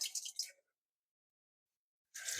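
Rice rinse water is poured from a pot into a strainer at a kitchen sink, giving a brief wet splashing gush, then a pause before another short burst of running water.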